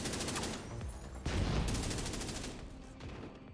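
Bursts of gunfire in The Division 2 crackle loudly and densely, with overlapping rapid shots swelling midway and then thinning toward the end.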